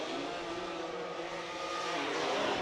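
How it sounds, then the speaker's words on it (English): A Ferrari V12 hot rod drift car at a Formula Drift qualifying session at Wall, 2019, its exhaust winding up from a distance in a steady, fairly faint roar that rises toward the end. "Winding up that Italian exhaust note into the second outer zone"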